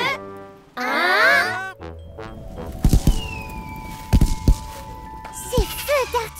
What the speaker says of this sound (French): Ces feux d'artifice vont vraiment très haut.